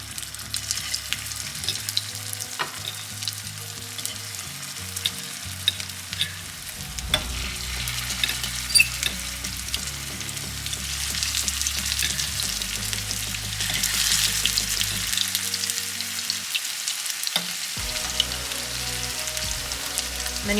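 Zucchini fritters sizzle in hot avocado oil in a pan, a steady close frying crackle with dense spattering pops that holds throughout, alone with no talk.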